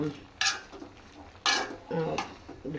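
Vegetables for Kanyakumari-style aviyal being stirred in a pot, heard as a few separate bursts of scraping and clattering from a spoon against the vessel, close and moderately loud, with short quiet gaps between them.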